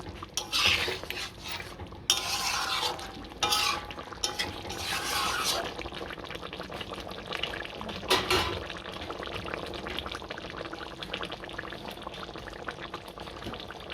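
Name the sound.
stirring chicken curry with ghee and garam masala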